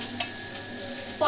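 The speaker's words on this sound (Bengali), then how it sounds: "পটল ভাজা।" Pointed gourd (potol) slices frying in oil in a pan, a steady soft sizzle running through the whole short stretch with a faint clink near the start and end.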